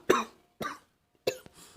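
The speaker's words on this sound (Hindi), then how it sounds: "थोड़ा खांसी है।" A person coughs three times up close, each a short, sharp, dry burst with pauses between them.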